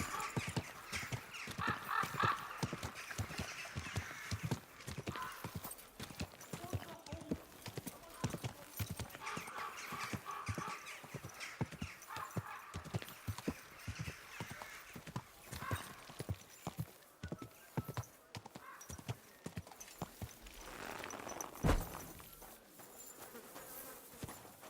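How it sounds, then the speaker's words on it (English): Rhythmic horse hooves clip-clop steadily on hard ground for a long stretch in a medieval video game, with an occasional neigh and faint buzzing insects in the background. "Easy, good horse."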